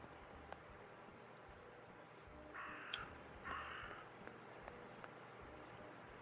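In the video game Martha Is Dead, a raven gives two short, clear caws in quick succession against a faint steady background hiss, with no talking.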